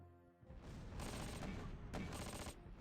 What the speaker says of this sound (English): there's an anti-tank gun shooting at these tanks